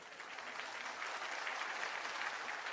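Steady, moderately faint clapping from an audience at a one-day workshop meeting in an ashram hall, an even patter of many hands with no pauses and no speech over it.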